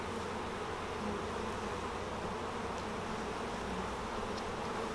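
Honey bees swarm thickly around a hive frame during a sunny-day swarm-control inspection, giving a dense, steady buzzing drone that holds at an even level throughout with no talking.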